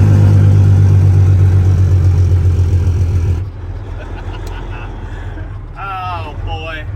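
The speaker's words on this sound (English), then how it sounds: "this thing still has jake brakes." A hood-stacked, high-horsepower Peterbilt pull truck's jake brake barks with a loud, deep, chattering engine roar for about three seconds, then cuts off to a lower rumble while voices talk over it.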